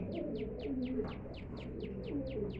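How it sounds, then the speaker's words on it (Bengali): A pet pigeon of a high-flying breed, kept at home, gives a quiet low cooing under a rapid, evenly spaced run of short high chirps, with no voices. "এটার আমি নাম দিয়েছি বাবু কবুতর"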